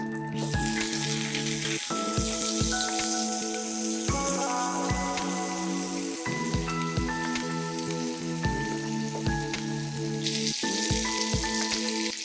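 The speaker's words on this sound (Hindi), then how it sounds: "इसको बटर पे फ्राई करने के लिए आप छोड़ दें।" Halved boiled eggs fry in butter in a pan, giving a steady, even sizzle and crackle throughout, with faint background tones running underneath.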